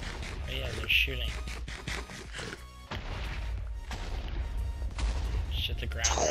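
Rapid bursts of Minecraft gunfire crackle over a constant rumble of battle noise, with muffled voices talking underneath throughout.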